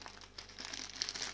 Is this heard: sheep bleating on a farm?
no